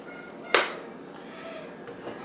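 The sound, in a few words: chocolate chips added to pecan pie mixing bowl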